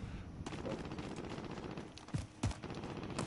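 Rapid bursts of gunfire from a video game shooter, steady and dense throughout with a few sharper, louder shots near the end and no talking.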